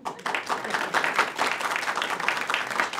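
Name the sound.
studio audience applause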